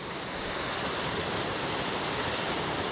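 Davidson's Linn waterfall pours into its pool as a dense, steady roar of splashing water, loud and continuous, with no voices.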